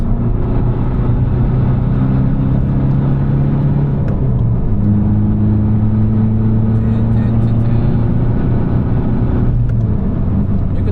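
Tuned Volkswagen Bora TDI diesel car driving on the Nürburgring, a loud steady engine drone heard from inside the cabin, with pitch dipping briefly around a gear change and holding steady throughout.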